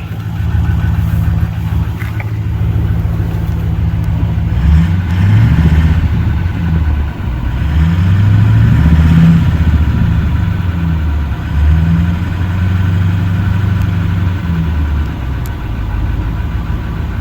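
A 2008 Ford F-350 with the 6.4 diesel revs up mid-run, then settles back into a steady, rumbling idle, heard up close with no talking.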